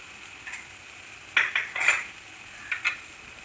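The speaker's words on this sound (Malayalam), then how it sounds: "നന്നായിട്ട് ഇളക്കുക." Tomatoes with turmeric and chili powder stirred in a pan, with a few scraping, clinking spoon strokes bunched in the middle and a couple more near the end over a quiet background.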